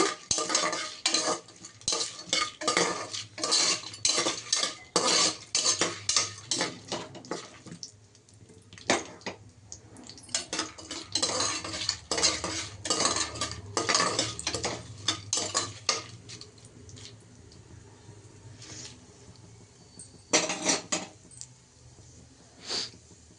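Whole spices for a vegetable biryani are fried in a pan, with bursts of stirring and metal scraping against the pan, soft sizzling between them, and a few pauses.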